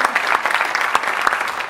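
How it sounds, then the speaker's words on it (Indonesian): Close, steady clapping from a church congregation during a sermon, a dense, even burst of applause lasting under two seconds. "Tepuk tangan dong."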